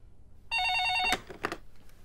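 Office phone ringing once while calling a lawyer's assistant, a bright electronic trill lasting about half a second, followed by a few faint clicks and handling noises.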